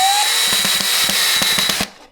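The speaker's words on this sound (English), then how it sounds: "I'll take the next screw and I'll drill it right in there" A power drill drives a screw into a daybed frame during assembly: a steady, loud whirring motor with a rhythmic series of clicks and knocks runs for nearly two seconds, then cuts off abruptly.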